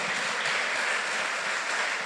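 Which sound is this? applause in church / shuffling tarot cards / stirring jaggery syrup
applause in church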